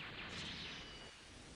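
Ultimate-attack explosion from the fighting game M.U.G.E.N, a loud, sustained roaring blast with hissy crackle that holds steady for over a second before easing slightly.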